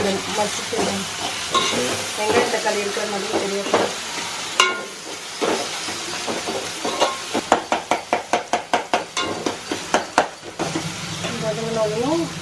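Ingredients for a village-style fish curry sautéed in a pan, with steady sizzling and frying hiss, and scraping strokes that become a rapid run of about a dozen sharp chops or taps near the end. Someone talks over it.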